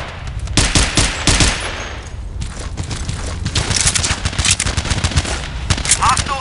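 Automatic weapon fire in the PC game Battlefield 2: loud, rapid bursts of gunshots in quick succession, with a brief pause before more sustained firing and a few sharper reports near the end.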